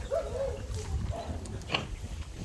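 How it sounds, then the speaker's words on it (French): Large dogs at an animal shelter courtyard in Bečej, Serbia, giving short whimpers and faint yelps at moderate distance amid outdoor background noise, with little talk. "on revient dans la grande première cour, là où il y a les grands chiens, avec Roxy"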